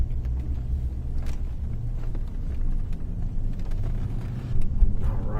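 V8 engine of a Florida Highway Patrol car drones at highway speed, a steady low rumble with road and wind noise that holds throughout, with no talk.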